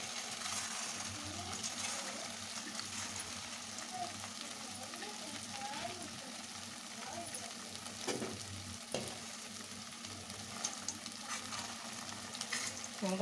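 Small rice flour gulab jamun balls fry in hot oil with a steady, dense sizzle and bubbling that holds level throughout, plus a few light knocks near the end.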